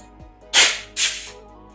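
Compressed air blasts dust off V8 engine parts in a workshop: two loud, close hissy bursts, each about a third of a second, separated by a short pause, with no talk.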